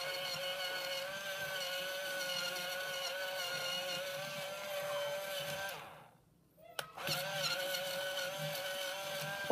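A wireless electric pencil sharpener grinds a pencil with a steady high whirring motor hum, cuts out briefly with a click, then resumes just as loud.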